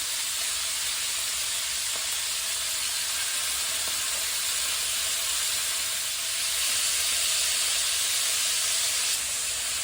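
Hare pieces browning in a hot pan give off a loud, steady sizzle and hiss that stays constant throughout, swelling slightly toward the end with no voices.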